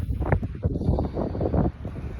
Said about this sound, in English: it's a very windy, wet day today